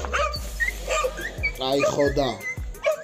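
Hunting dogs bark sharply while another whimpers and yips, close by, with someone talking over them.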